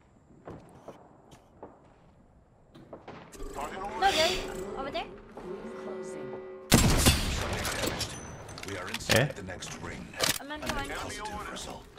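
Gunfire in a competitive team shooter match, bursts of shots cutting in loud and dense partway through, layered over game effects with players talking throughout.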